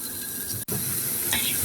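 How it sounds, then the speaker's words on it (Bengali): A lentil and oat paratha fries slowly on a pan over low heat, giving a soft, even hiss with a brief dropout partway through and a faint scrape near the end. "এটিও হালকা তাপে ধীরে ধীরে এপিট উপিট করে ভেজে নেব"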